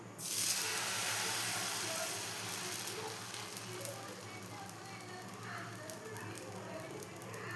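Dosa batter poured onto a hot oiled pan, bursting into a loud hiss that eases into a steady soft sizzle, close by in a home kitchen with no speech over it.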